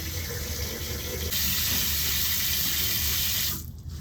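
Water runs steadily from a tap into a basin, a broad rushing hiss that swells louder partway through, then cuts off abruptly near the end.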